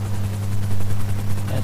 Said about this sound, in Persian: ولی یه هلیکوپتره.